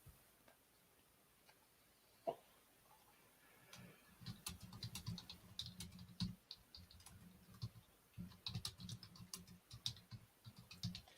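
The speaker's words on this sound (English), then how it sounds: "That's some pretty loud typing." Rapid, loud clacking of keys on a keyboard, starting after a quiet moment and continuing in busy irregular bursts of typing.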